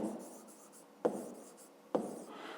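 Handwriting on paper during a fifth-grade math exercise, soft close scratching strokes with two sharper taps of the pen against the page.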